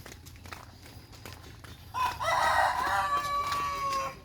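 A rooster crows once, a long drawn-out call fairly close by, after a stretch of faint background clicks and rustles.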